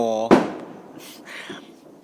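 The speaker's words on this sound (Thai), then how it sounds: "แถวบ้านผมนี่ยังระเบิดซีโฟกันเลยนะครับ" A sharp firecracker bang cracks out right after a brief voice at midnight on New Year's Eve in Thailand, followed by fainter, more distant pops and crackles.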